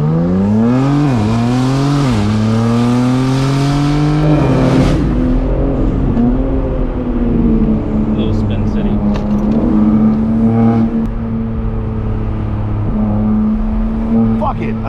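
A Pontiac G8 engine revs hard on back roads, rising through the gears with sharp shift drops and then settling into a steady loud drone, heard from inside the car with a few voices underneath.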